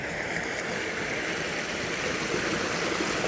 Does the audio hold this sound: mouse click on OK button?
no